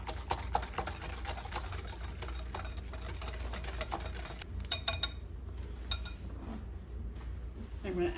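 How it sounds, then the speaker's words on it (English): A whisk clicks rapidly against a bowl, beating vinegar and salt into a dressing. The close, steady ticking lasts about five seconds, then trails into a few lighter taps and clinks. "Then we're going to whisk that together."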